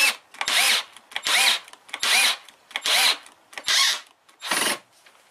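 A power drill drives a screw into wood in six repeated bursts, each roughly half a second long with short pauses between, loud and close with no talking.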